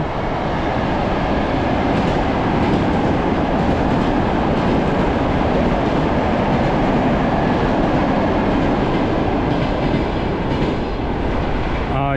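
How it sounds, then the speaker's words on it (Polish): A train rumbles steadily past at close range near Moscow, a dense continuous roar of wheels and carriages filling the whole clip with no letup. "kolejny pociąg jadący w przeciwnym kierunku"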